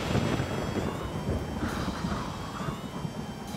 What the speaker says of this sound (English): That night, there's a storm.